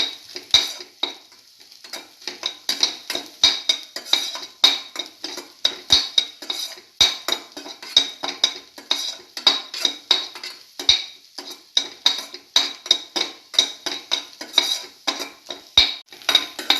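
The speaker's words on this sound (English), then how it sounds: "Sauteing this thoroughly until the shallots lose their pinkish color." Shallots are sautéed in a pan with a utensil scraping and clinking against the metal in quick, irregular strokes over a faint sizzle, continuous and close with no talking.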